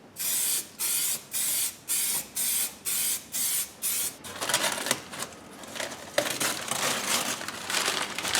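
An aerosol can sprays paint in a car's engine bay, first as about seven even, loud hissing bursts, then as denser uneven spraying with crinkling noise close by.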